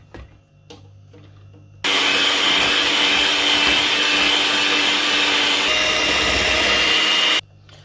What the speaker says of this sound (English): then I'll give it a quick blend with my mixer